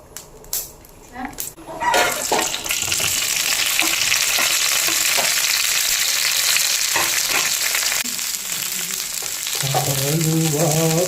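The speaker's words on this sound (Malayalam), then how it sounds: "ലേശം വെളിച്ചെണ്ണ ഒഴിക്കാം." Coconut oil hits a hot frying pan while sambar is being made, and a loud, bright sizzle swells and holds close-up after a few light clinks, with a brief voice near the end.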